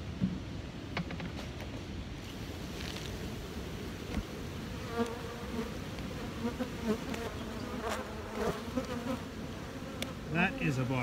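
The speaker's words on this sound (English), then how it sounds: "That is a box of bees." Honey bees buzzing inside a hive box in an apiary, a dense, steady hum of many wings close by, with individual bees droning louder as they pass near.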